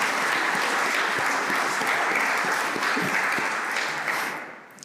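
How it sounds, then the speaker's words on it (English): Audience clapping at the Berlin Climate Mobility Forum opening session, a dense, sustained round of applause from a large hall crowd that fades out near the end. "you can clap"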